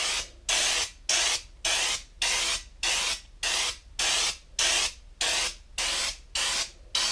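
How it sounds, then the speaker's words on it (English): Repeated bursts of a texture sprayer hissing onto a repaired wall patch from about a foot away, about a dozen evenly spaced sprays with short pauses between, close and steady. "we're going to go ahead and spray from a distance away"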